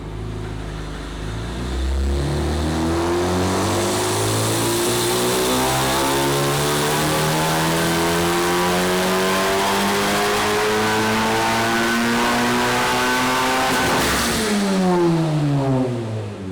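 A turbocharged 2023 Honda Civic Type R FL5 with an MDR X-700 turbo, running E85 at 35 psi on a dyno, roars up through a long wide-open pull to a peak, then drops off sharply, loud and close.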